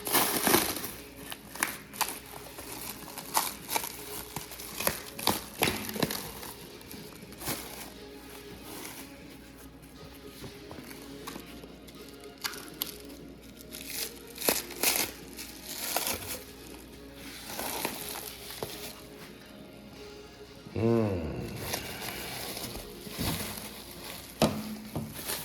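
Plastic wrap being cut and torn away from 6.0 Powerstroke cylinder head castings, heard as close crinkling, crumpling and tearing with scattered knocks and rustles over a longer stretch.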